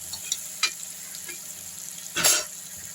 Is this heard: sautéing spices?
yes